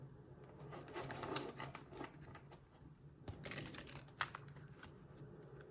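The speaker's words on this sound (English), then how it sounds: "Yikes, that was not a good shuffle." Tarot cards shuffled by hand, giving a soft, steady riffling patter with a few sharper flicks and snaps, close and fairly quiet, with no voices.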